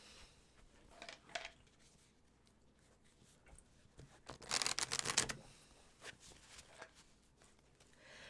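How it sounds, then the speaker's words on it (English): A tarot deck is shuffled quietly at close range: soft scattered card clicks, then a brief dense riffling burst in the middle, followed by a few light taps. "All right, your turn to shuffle."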